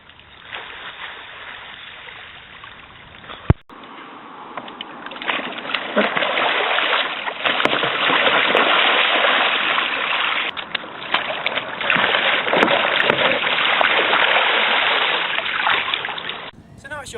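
Water churns and splashes around a kayak as it rolls, a sustained rushing wash swelling and easing, with a sharp knock partway through.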